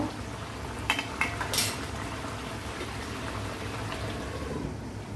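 Metal clinks as a lid is set on a pot of simmering chicken curry, a few quick clatters early on over a soft, bubbling background.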